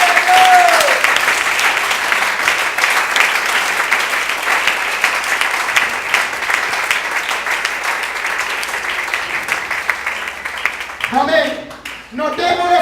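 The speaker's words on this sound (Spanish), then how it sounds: "Den un aplauso al Dios Todopoderoso." A church service congregation breaks into loud, sustained applause for God that carries on for about eleven seconds, then thins out as a preacher resumes speaking.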